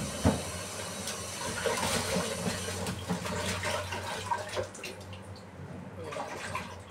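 Running tap water fills a basin to soak cabbage in a kitchen, a continuous hissing splash with a few clunks and knocks, steady and fairly close before it eases near the end.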